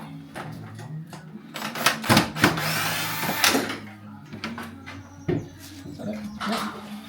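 During a timber conservatory roof build, a power drill backs screws out of a lock fitting in short whirring bursts among knocks and clatter, with people talking over it.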